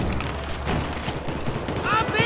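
Gunfire crackles in the video game Battlefield 4 on Operation Metro, with rapid shots and distant blasts mixed into the game audio while a player talks over it.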